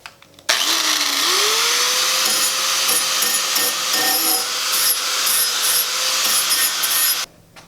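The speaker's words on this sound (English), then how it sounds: "I'm gonna grind this down. I'm gonna use a new flat disc" An angle grinder with a flat disc spins up and grinds steadily against metal on a Honda S2000 exhaust, a loud continuous harsh rasp with slight pitch wavering, then cuts off.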